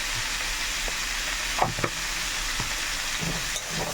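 Vegetables seasoned with salt and turmeric sizzle steadily while being stirred in a frying pan, with a few scraping clacks of the spoon against the pan over the continuous hiss.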